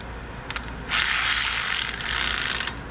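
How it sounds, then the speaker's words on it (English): A Milwaukee power ratchet tightens small bolts on a pump housing for a 6.7 Cummins, giving a brief couple of clicks and then a steady, loud, close whirring ratchet run of nearly two seconds with no talk. "And use the old Milwaukee these bolts don't need to be super tight."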